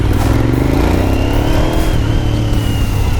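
A Suzuki SV1000 motorcycle engine, very loud and close, revs with a rising, strained drone as the clutch is let out, with a continuous rough roar throughout.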